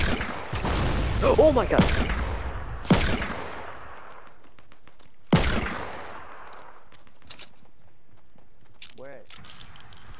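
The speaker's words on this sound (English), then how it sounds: "There's a homing missile hitting our base." Homing missile strikes on a base in Fortnite: a few sharp, loud explosive blasts with decaying tails, spaced several seconds apart, with a player exclaiming in between.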